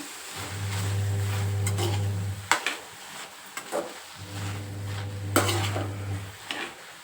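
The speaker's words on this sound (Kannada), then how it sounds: "ಇವಾಗ ಮತ್ತೆ ಚೆನ್ನಾಗಿ ಎಲ್ಲ ಮಿಕ್ಸ್ ಮಾಡ್ಕೋತಾ ಇದ್ದೀನಿ" Beetroot palya with grated coconut being stirred in a pan, a spoon scraping and knocking against the metal in two bursts of steady stirring with a few sharp clinks, close and clear with no talk.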